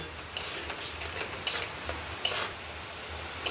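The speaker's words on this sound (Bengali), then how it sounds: "দেখুন আমাদের মশলা কষা প্রায় হয়ে এসেছে" A spice paste cooking and being stirred in a pan while cooked with fish head and ash gourd, a soft continuous sizzle with about four sharper scraping strokes spaced roughly a second apart, close and fairly quiet.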